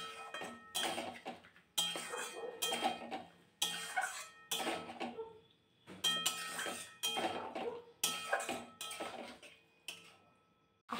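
A spatula clanks and scrapes against a metal pan as marinated chicken is stirred for Bengali chicken kosha, giving repeated clinking bursts every second or so with short pauses, close and fairly quiet.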